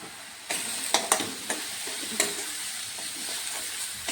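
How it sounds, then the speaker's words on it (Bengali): Ground cumin, coriander and Kashmiri chilli powder fry in hot oil with a steady soft sizzle, broken by several brief scraping stirs of a spoon in the pan, with no talking. "মশলাগুলোকে একটু ভালো করে আমি ভেজে নেব।"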